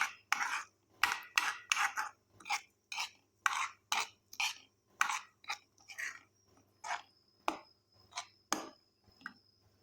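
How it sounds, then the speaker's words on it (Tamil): A spoon stirs and scrapes egg curry in a pan in quick, irregular strokes, each a short clattering scrape with brief pauses between, close and fairly loud. "இது மாதிரி நல்லா கிளறிட்டு"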